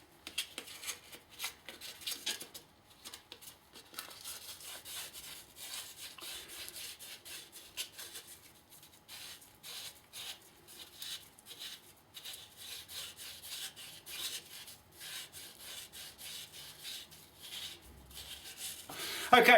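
Motorcycle brake pads on a Triumph Trophy are scrubbed with wet and dry sandpaper, a close, steady rasping back-and-forth rub that repeats in quick strokes for the whole stretch, fairly quiet, with no talking.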